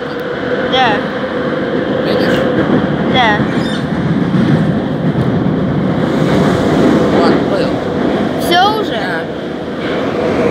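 A Moscow metro train runs toward Pechatniki station with a steady, loud rolling rumble throughout, while a recorded passenger announcement and nearby voices carry over it.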